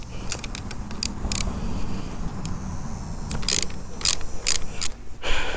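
A ratchet cranks loose the seat bolts on a Royal Enfield Hunter 350 motorcycle, giving irregular clusters of sharp metallic clicks over a low, steady background rumble.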